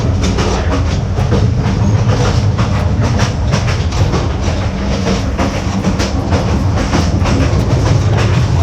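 Heard from inside a carriage, the Reunification Express rolls through Vietnam, its loud steady rumble carrying a rhythmic clickety-clack of wheels over rail joints throughout, with no talk.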